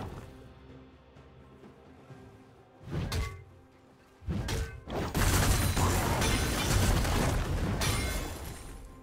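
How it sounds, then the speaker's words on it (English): Destruction of a turret in League of Legends: two sharp crashing impacts, then a loud, dense, sustained rumbling blast that keeps roaring steadily to the end, with no talking. "Blue team's turret has been destroyed."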